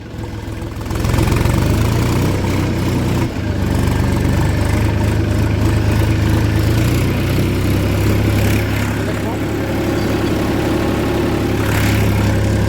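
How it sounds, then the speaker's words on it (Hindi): A tractor engine runs loud and steady for the whole stretch while ploughing leaf residue into a field, with a deep, continuous drone and a knocking edge that never lets up. "एकदम ट्रैक्टर जो है मड़ाई चलने लगता है"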